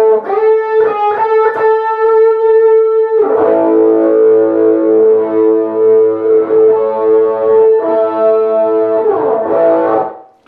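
Electric guitar playing the closing lick, a distorted, effects-laden tone with sustained notes and quick picked phrases, loud and alone without talk.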